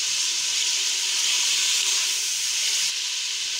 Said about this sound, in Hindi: इस गोश्त की भुनाई कर लेंगे अच्छी तरीके से